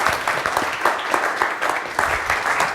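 Warm audience applause welcoming a guest speaker at an academic colloquium, a dense, steady wash of many hands clapping at moderate distance from start to finish.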